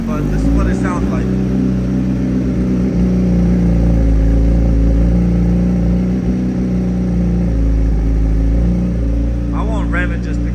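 A cold Suzuki racing motorcycle engine idles loud and close with a steady, rough rumble and no revving, while a person talks over it.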